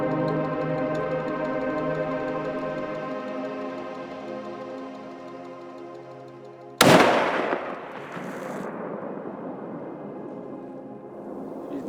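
A single sharp, loud rifle shot cracks out at an elk during a Colorado hunt at about 450 yards, a sudden blast with a lingering rumbling tail, preceded by steady droning background hum.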